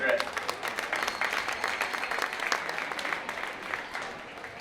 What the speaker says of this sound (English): Let's give a big round of applause for Russell Pedret.